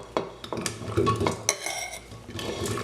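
Chopped vegetables for a veg stew, including green chillies and carrots, tumble into a pressure cooker with a run of close clattering knocks, scrapes and utensil clinks, no voices.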